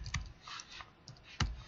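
Fingers type on a computer keyboard during a SQL Server Management Studio demonstration: a few scattered, irregular key clicks with one sharper tap near the end, soft and close with no voices.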